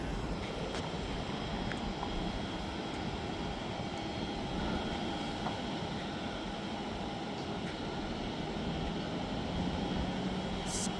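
Spirit Airlines jet departing Tampa International Airport, heard from a rooftop parking level as a continuous, steady, distant engine roar that stays even throughout.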